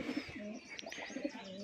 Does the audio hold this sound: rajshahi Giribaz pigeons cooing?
yes